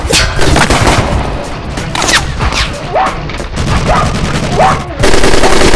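Gunfire from a Jamaican underground crime film rattles in loud, rapid bursts and scattered single shots, close and dense, with chaotic background noise and no clear talk.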